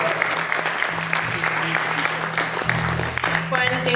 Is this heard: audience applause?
yes